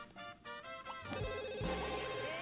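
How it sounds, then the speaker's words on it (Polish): A telephone rings in The Sims 2 life simulation game, a patterned electronic ringtone repeating across the clip, heard alone at moderate volume with no talking over it. "O, telefon nam dzwoni."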